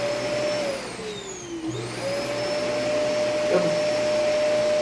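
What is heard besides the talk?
Hoover vacuum cleaner sucking up drilling dust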